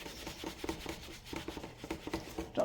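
Soft, repeated rubbing strokes across a kitchen surface with a paper towel and Goo Gone cleaner, a light rasping rhythm close by.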